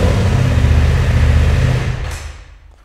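BMW F900 XR motorcycle engine running briefly: loud, close low rumble that fades out as the engine shuts off, with no voices.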